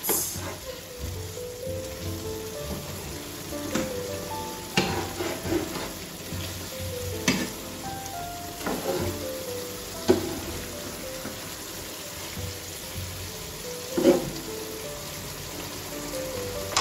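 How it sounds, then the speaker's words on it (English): Liver pie filling thickened with cornflour and water bubbles and spits in a pot, with a soft, rain-like patter and occasional spoon knocks and scrapes as it is stirred. "Now stir it."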